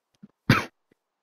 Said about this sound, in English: I have a slight cough.